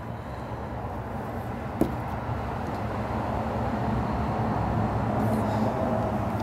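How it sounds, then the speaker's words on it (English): Traffic on a busy road behind a backyard carries as a steady, distant low rumble of passing vehicles, rising slightly over time, with one brief sharp knock early on. "You got that traffic background noise that I play. It's called my backyard. It sounds really busy"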